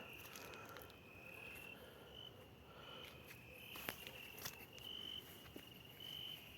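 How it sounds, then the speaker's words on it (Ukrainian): Crickets chirp steadily in a quiet evening garden, a high continuous trill with faint scattered clicks and rustles nearby. "Дуже цвіркуни цвіркочуть."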